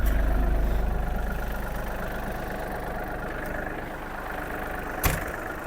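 A Yanmar US-330 mini tractor engine idles steadily with its PTO shaft turning, a low, even rumble that eases slightly in loudness, broken by one sharp click near the end.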